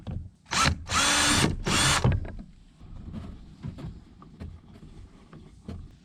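A power drill whirs in two short loud bursts into a plastic Bonafide SS127 kayak during a rudder install, followed by quieter clicks and handling noises.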